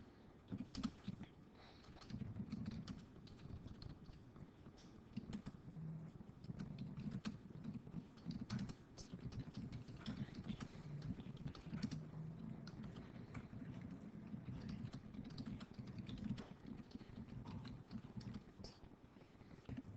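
Typing a paragraph on a computer keyboard, a continuous stream of quiet, fast key clicks at close range running for the whole stretch without any talking.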